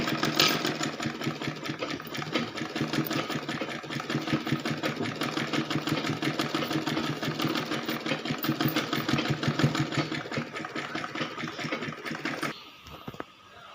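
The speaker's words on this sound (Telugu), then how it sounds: "సేమ్ ఇదే విధంగా స్టిచ్ చేసుకోవాలి. ఇట్లా డబుల్ ఫోల్డ్ అనేది ఇట్లా మలుచుకుంటూ కుట్టుకుంటూ రావాలి." A sewing machine stitches a cloth shopping bag in one long steady run, a fast close mechanical whir and clatter that stops abruptly near the end.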